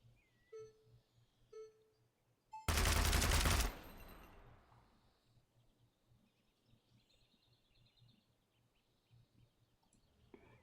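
Full-auto gun fired in Gunsmith Simulator, a single loud roughly one-second burst of rapid shots, then a fading tail over quiet ambient game sound with faint chirps.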